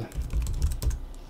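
Rapid keystrokes on a computer keyboard as a new folder name is typed, a quick uneven run of close, crisp clicks with no talking.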